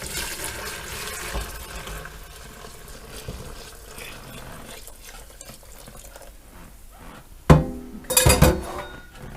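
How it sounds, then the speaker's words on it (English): Bone broth from an Instant Pot poured into a plastic container: a soft, low wash of liquid first, then sharp clinks and a louder splashing burst near the end, with no speech. "let's carefully pour this into the container"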